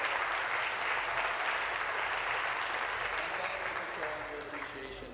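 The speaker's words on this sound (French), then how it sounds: "Et merci de votre applaudissement." Applause in the Ontario legislative chamber: a dense, sustained wash of many hands clapping at once that holds steady, then starts to thin toward the end as a few low background sounds and faint voices come through.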